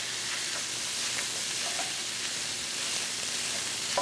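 Ground lamb spread out frying in a pan, a dense, even sizzle of fat crackling close up and continuous, with faint stirring scrapes and no talk.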